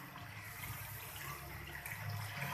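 Water is poured from close by into a cooking pot of beef nihari, making a faint, steady splashing wash that continues without a break and without any talk.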